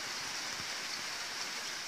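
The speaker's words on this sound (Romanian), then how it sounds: "De vreo jumătate de oră plouă așa curat" Steady rain falling on a garden in Vrancea in May, a soft even patter of drops without thunder, continuous and fairly faint throughout.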